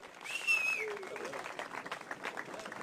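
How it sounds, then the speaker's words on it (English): A crowd applauding the top three at a university karting qualifier, with dense, continuous clapping at moderate distance and a brief high whistle early on. "Another round of applause"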